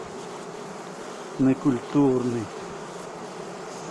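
Honey bees hum at an opened beehive during a hive treatment check, a steady low buzz under the whole span. Someone speaks briefly near the middle.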